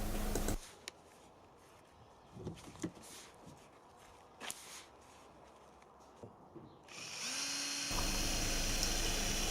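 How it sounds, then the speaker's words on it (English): A power drill whirs in short bursts amid quiet, then runs steadily louder toward the end, drilling holes into a wooden core box for bronze casting. "Here I'm drilling holes into the inner core box."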